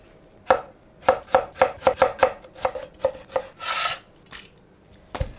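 Garlic crushed and ginger chopped on a cutting board for beef pares: a series of sharp, close knocks in a quick rhythm, then a short rasping scrape and a final knock.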